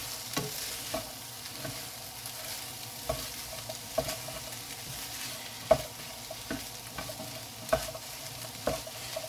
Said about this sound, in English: Keep stirring, don't let it burn, don't let it stick.